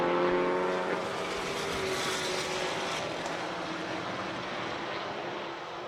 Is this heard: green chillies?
no